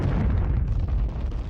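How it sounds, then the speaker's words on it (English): An asteroid impact explosion in an Earth documentary: a deep, continuous roaring rumble that stays loud and dense throughout, with no voices over it. "The explosion creates a crater over 150 kilometers wide."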